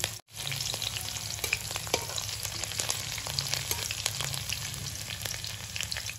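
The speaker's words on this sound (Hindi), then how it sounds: "तेल गरम हो गया है, अब इसमें थोड़ी सी जीरा डाल रहे हैं और ये डाल रहे हैं कटी हुई हरी मिर्च और लहसुन।" Cumin seeds, chopped green chilli and garlic sizzle in hot oil, a dense steady crackle with frequent sharp pops, close and continuous, no talking.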